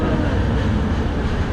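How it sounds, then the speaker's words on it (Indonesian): A Kelana Jaya line LRT light rail train at KL Sentral station, bound for Putra Heights, gives off a loud, steady rumbling roar that stays close and continuous with no break. "Ini adalah LRT yang pergi ke Putrahik."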